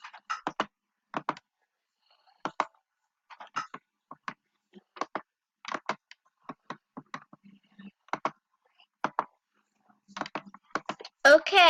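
A computer keyboard is typed on in scattered clicks and short bursts, close to the microphone, with quiet gaps between keystrokes during a Minecraft session.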